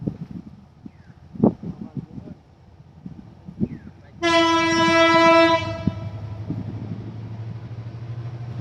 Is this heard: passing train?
yes